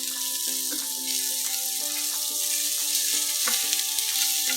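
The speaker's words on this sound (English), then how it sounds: "Bacon's coming nice and brown now." Streaky bacon fries in a pan for a slow cooker sausage casserole, giving a steady close hiss and crackle with some tonal ringing above it that continues throughout.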